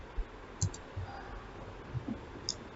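A computer mouse clicks a few times, sparse and quiet, with brief separated taps in a still room and no talking.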